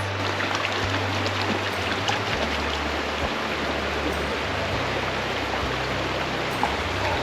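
A creek in Clifty Falls State Park rushes over rocks where a hiking trail crosses it: a steady, loud, unbroken wash of water fills the whole stretch, with a low rumble beneath.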